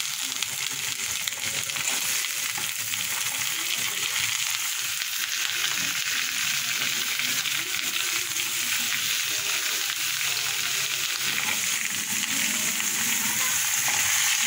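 Onions, kutli and potatoes fry in a pan on a home stove, giving a continuous close sizzle broken by occasional scraping stirs, with no talking.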